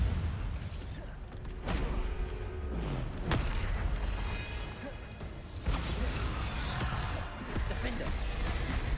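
Repeated Bombarda explosion spells cast in Hogwarts Legacy, booming blasts and crashes spaced a few seconds apart amid game sounds, with a voice talking throughout.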